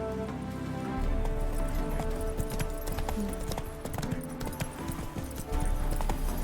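Roach, Geralt's horse in The Witcher 3: Wild Hunt, gallops with a steady, close clip-clop of hooves over a rumbling ground noise, a faint whinny-like tone mixed in.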